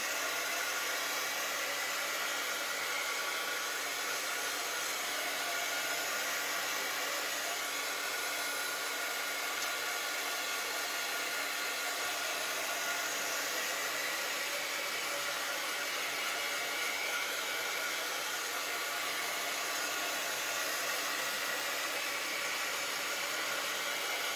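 A hair dryer blowing steadily on wet paint, a constant loud whooshing hiss running without a break throughout, close and alone.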